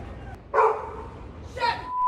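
Multiple dogs barking in the backyard of a Northwest D.C. home in the Petworth neighborhood, two separate bursts of loud barks and yips over a background hum.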